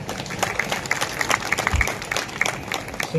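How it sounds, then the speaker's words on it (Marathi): An audience at a church youth convention in Navapur breaks into brisk, fairly loud applause with crowd murmur that carries on for the whole stretch. "टाळ्या घेऊया."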